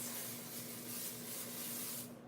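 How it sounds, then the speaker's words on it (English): Steady hiss of pixie spray misting from a spray bottle over a craft project, a continuous close spray lasting about two seconds before cutting off, with no talking. "I'm grabbing my pixie spray"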